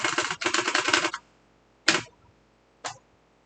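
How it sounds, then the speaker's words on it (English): Computer keyboard keys clatter close up: a rapid run of presses for about a second, then two isolated single keystrokes separated by quiet pauses. "Keyboards are so cool."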